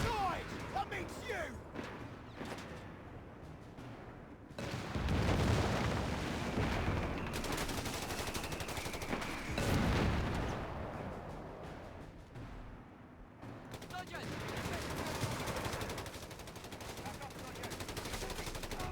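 Mortar and gunfire battle sounds in Company of Heroes 3, set in the city of Potenza: a dense, loud barrage of blasts and rattling fire, with heavy bursts rolling in waves and brief lulls between them.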